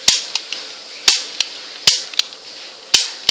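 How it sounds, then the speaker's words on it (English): Loud, sharp electronic shooting bursts from a large Optimus Prime toy gun, several main blasts with shorter clicky pops between them in an irregular rapid-fire pattern, close and dominant. "A big Optimus Prime gun."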